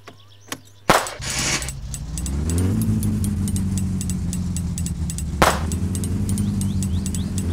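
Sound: muscle car engine revving in My Summer Car video game

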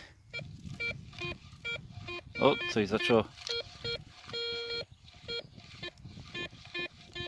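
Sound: Garrett Ace 250 metal detector signal tone

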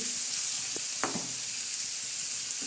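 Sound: onion frying in pan

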